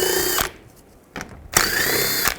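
Power drill with a 7mm socket removing screws on a Chevrolet Equinox during radiator fan assembly replacement, running in two loud close bursts separated by a brief pause.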